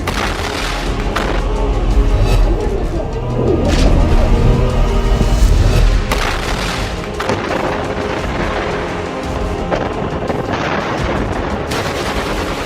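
Close-range combat as Hamas al-Qassam Brigades fighters fire RPGs, thermobaric grenades and rockets at Israeli troops: loud, dense booms and rapid gunfire bursts overlap continuously, with heavy low rumble swelling in the first six seconds.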